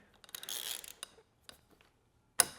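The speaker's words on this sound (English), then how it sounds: "I have these cool little wrenches that actually trap bolts really well" Metal clicks and a ratcheting burst from a small bolt-trapping wrench working a nut on a crash bar hanger for a Goldwing motorcycle, then a short pause, a few faint ticks and one sharp metallic click near the end, with no talk.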